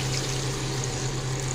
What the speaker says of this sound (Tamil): இதில் வந்து 1 கப் அளவுக்கு தண்ணி வைக்கிறேன்.